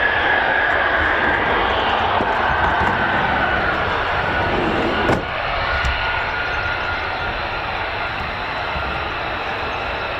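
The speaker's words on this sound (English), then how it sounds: "These are the F-35As. Quick climb on request as well." F-35A fighter jets climbing out of RAF Lakenheath, a sustained loud roar of jet engines that builds slightly and then tapers, heard without talk over the ten seconds.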